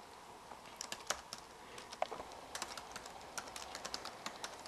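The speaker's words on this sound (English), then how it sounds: "you can post by just typing in the top here" Quiet, close typing on a computer keyboard, with irregular key clicks tapping steadily throughout over a faint room hum, no talk.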